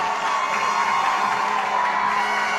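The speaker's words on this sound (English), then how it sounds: "the Moncton Flyers crowd comes alive" A hockey arena crowd at a Moncton Flyers game roars and cheers steadily after a goal in a final, a broad sustained wash of voices with a few whoops.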